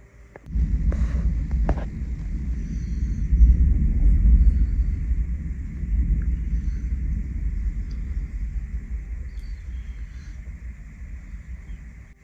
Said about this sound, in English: Well, that was a long peal of thunder.